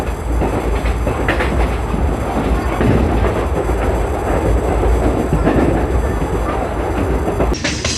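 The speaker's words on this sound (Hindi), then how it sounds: "तो हमारी ट्रेन पेड़गांव रेलवे स्टेशन को भी स्किप करके निकल गई।" A train runs through a small railway station without stopping on an electrified Indian line. It makes a loud, continuous rumble with rattling wheel clatter that is heard close and steady throughout.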